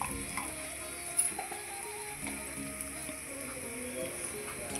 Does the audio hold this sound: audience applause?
no